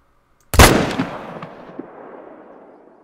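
A single loud rifle shot at a red deer in theHunter: Call of the Wild, a sharp close crack followed by a long rolling echo that fades over a few seconds, with no talk.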